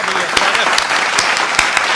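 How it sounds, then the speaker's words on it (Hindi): A crowd claps steadily for a couple of seconds, dense and fairly loud, with a few sharper claps standing out; a voice may murmur underneath. "एक बार तालियां आप बजा दीजिए"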